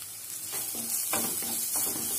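Garam masala and chili powder are stirred into a frying vegetable mixture for cutlets, giving a loud, steady hiss of sizzling oil with several soft, rhythmic scraping stirs.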